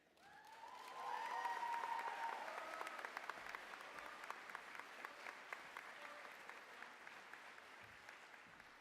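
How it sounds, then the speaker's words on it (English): An audience at a Special Olympics event applauds in a sustained wave of clapping that swells quickly and then holds steady, dense and somewhat distant. "we celebrate and we applaud you"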